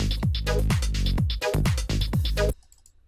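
In a psytrance-style electronic track, a synthesizer minor chord stab preset hits repeatedly in a quick, driving rhythm over punchy low kicks, loud and up front, then cuts off abruptly near the end, leaving a faint tail.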